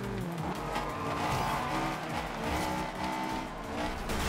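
Engines roar continuously in Forza Horizon 2 as cars race, with tires squealing and skidding in repeated bursts over a dense, loud wall of motor noise and no talk.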